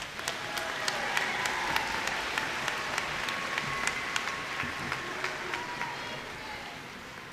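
A large commencement crowd at Dalton State College in spring 2019 applauds graduates with steady, sustained clapping throughout, while a few sharper individual claps stand out against the wash.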